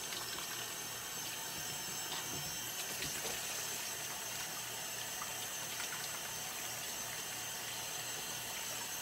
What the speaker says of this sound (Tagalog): hugas muna tayo ng kamay